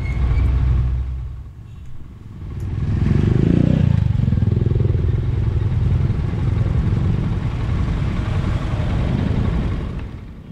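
Scooters and motorcycles lane split through city traffic in the Philippines, engines rumbling and idling close by with a louder passing surge, steady low traffic noise throughout.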